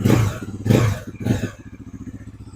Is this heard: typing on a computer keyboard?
no